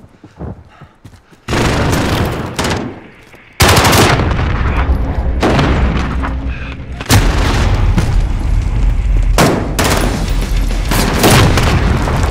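Heavy gunfire in the Modern Warfare video game, bursts of automatic fire and loud booming shots coming close and dense, starting after a quiet opening and continuing in rolling volleys to the end.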